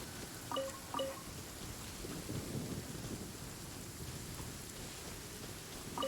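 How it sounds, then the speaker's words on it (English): Steady rain falls through a Genshin Impact storm, with a low rumble of thunder rolling in midway and a few faint chimes scattered over the constant hiss. "It's a storm!"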